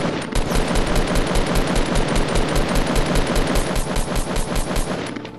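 Rapid automatic gunfire in a Fortnite Battle Royale match, a loud sustained burst of evenly spaced shots rattling nonstop for about five seconds with no talk over it.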